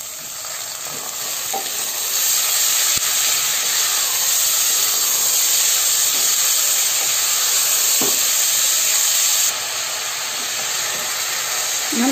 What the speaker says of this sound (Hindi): हम तेजे आंच पर 4-5 मिनट देके पहले चना के भूज लेबै, प्याज के चना के